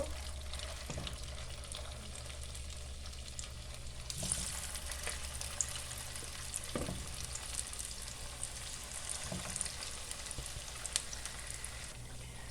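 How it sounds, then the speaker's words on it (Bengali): Cabbage pakora batter deep-fries in oil with a quiet, even bubbling sizzle and a low hum beneath it. A few faint clicks and thuds from handling break the fry, and nobody speaks. "তো এখন যেই বাকি ব্যাটার কেয়ারটা আমার পাকোড়ার জন্য রেডি করা কেয়ারটা আছে, ওইটাও ভেজে নেব।"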